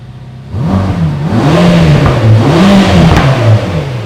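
A Mercedes-AMG GT Black Series engine blips and revs repeatedly, a strong close-up rise and fall of pitch over several throttle stabs, starting from a quiet idle.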